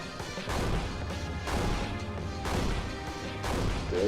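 Heavy smashing impacts from a head smash attack in Monster Girl Quest Paradox land in a steady series, roughly one strong hit each second, loud and punchy over game music.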